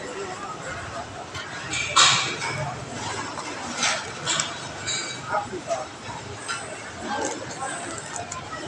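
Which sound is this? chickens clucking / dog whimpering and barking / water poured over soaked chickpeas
dog whimpering and barking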